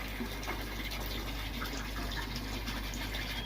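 Water steadily pours into a large koi pond lined with a joined liner as it nears full, a continuous rushing, gushing wash with no pauses and no talk.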